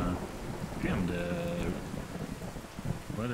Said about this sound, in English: Heavy thunder and the rain is so intense